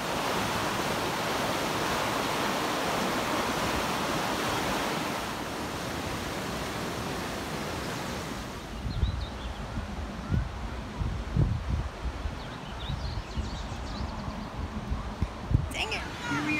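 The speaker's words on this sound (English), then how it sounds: "I love the sound of the river." A river rushes steadily at Bridal Veil Falls in Utah, loud and close as a broad, constant roar. It drops to a lower level partway through, and people talk faintly beneath it.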